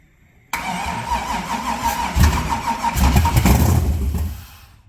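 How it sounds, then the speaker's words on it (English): An old bracket drag car with a swapped LS V8 cranks and catches after a short pause, then settles into a loud, rough, rumbling idle close by. "Might actually fire up right away here."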